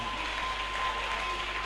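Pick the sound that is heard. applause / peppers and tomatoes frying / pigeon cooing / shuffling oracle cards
applause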